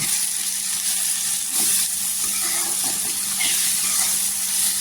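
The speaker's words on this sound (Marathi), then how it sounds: "हे सुके मसाले छान असं तेलावर परतून घ्यायचं" Dry spices (coriander powder, garam masala and turmeric) sauté in hot oil, giving a steady close hiss and sizzle with faint stirring ticks.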